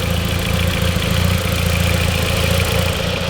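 An MK4 Golf with a newly installed turbo and front mount intercooler idles close by, a continuous, fairly steady engine hum with a slight rough pulse.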